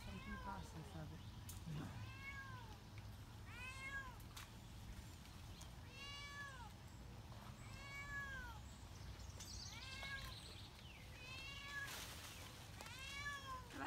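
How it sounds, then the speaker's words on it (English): A cat stuck up a tree meows again and again during a rescue, repeated rising-and-falling cries at an uneven pace, with people talking and faint outdoor noise underneath. "I bet that was a hard cat to find in the tree"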